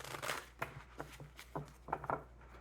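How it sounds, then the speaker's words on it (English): A deck of cards is shuffled close by in a quiet room, giving a series of soft riffling and slapping bursts at an uneven rhythm. "We'll do two more shuffles."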